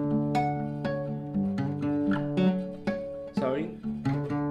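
Guitar harmonics ring out on an acoustic-style guitar playing the main riff of a song, a steady string of bell-like chiming notes with a few quick slides, close and clear with no talking.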